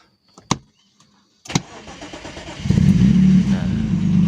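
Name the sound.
BMW E36 engine starting with keyless push button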